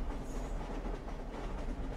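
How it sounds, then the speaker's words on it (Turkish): A train rumbles steadily past in the Red Dead Redemption video game, a continuous loud rolling rattle of wheels and cars with no break. "Tren sesi müzikle ne alaka"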